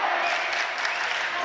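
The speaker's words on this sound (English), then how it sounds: "As the crowd chants, you can't guard him, as Isaac Vaha has virtually scored every po" Crowd at a high school basketball game between Pleasant Grove and Westlake, chanting and cheering loudly in a gym, a dense, sustained roar of many voices filling the whole moment.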